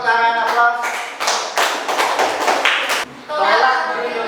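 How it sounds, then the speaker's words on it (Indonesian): Classroom applause breaks out as students clap together in a burst of a couple of seconds, sitting between stretches of talking by a teacher nearby. "Ya, tepuk tangan aplaus."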